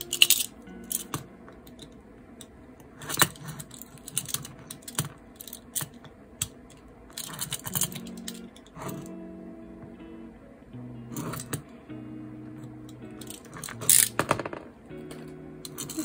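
A utility knife cuts slits into a clear plastic planner, giving sharp irregular clicks and scraping snicks scattered at close range, with quiet rustles of plastic between them.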